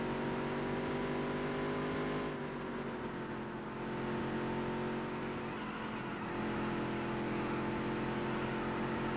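Race car engine in the Dirt to Daytona video game, a steady, loud droning roar with layered harmonic whine that dips briefly mid-run before building again, continuous with no talk.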